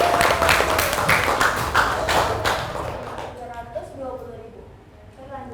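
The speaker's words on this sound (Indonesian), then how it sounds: "Tepuk tangan dong." A class of students applauds after a group presentation, with loud, close clapping for about three seconds that quickly fades. Speech follows in the quieter remainder.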